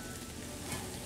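Chorizo and shallots sautéing in a pan give a faint, steady sizzle across a brief moment, with nothing else over it.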